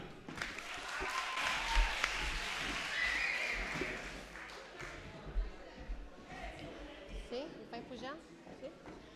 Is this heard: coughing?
no